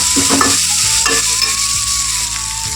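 Pepper, garlic and cumin paste fries loudly in a pan with a strong, close sizzle, punctuated by clinking and scraping stirs of a spoon.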